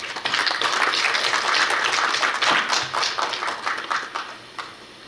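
At a Korea University KU-KIST graduate school entrance ceremony, the hall applauds as a student is welcomed; full, steady clapping from many people for about four seconds, thinning into a few scattered claps at the close.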